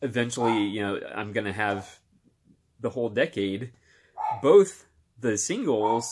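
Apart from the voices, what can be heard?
No everyday noise stands out behind the speech.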